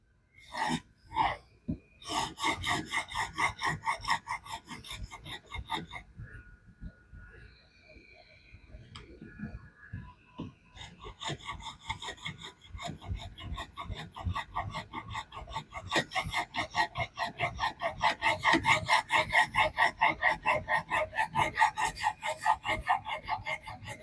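A knife blade rasps back and forth across a diamond sharpening plate in rapid rhythmic strokes, close and scratchy, with a short lull in the middle before the strokes resume.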